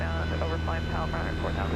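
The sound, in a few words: Cessna 172 airplane engine at full power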